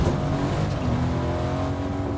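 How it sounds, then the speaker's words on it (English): A car in Fortnite drives along with a continuous loud engine drone, close and steady, with a faint tire hiss, and no talking over it. "I'm driving my own car, bro."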